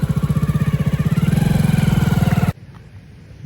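A motorbike engine idles with a steady, rapid putter that is close and loud, then cuts out abruptly, leaving only faint background sound.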